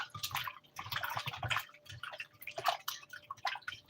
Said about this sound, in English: I'm gonna add some cold water and turn it this way.